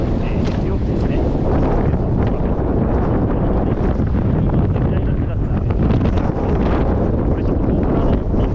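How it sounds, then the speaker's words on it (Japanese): Strong wind buffets the microphone on a ski slope at Hakuba Happo-one ski resort, a loud, roaring, gusting rush that never lets up, with a faint trace of voices beneath it. "これちょっと僕らのロッドリフト止まりそうだなっていうぐらい強風なんですが"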